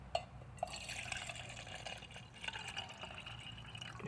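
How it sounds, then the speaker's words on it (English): Used drained engine fluid being poured from a pan into a small can, giving a faint, steady trickle and splash of liquid after two brief clinks, low in level with no speech. "And what I do is I keep a little can over here and I just pour it"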